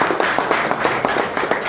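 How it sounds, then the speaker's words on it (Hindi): Audience at a political event in India clapping together, a brisk, steady patter of many hands, moderately close and continuous with no voices over it. "जोरदार तालियों के साथ"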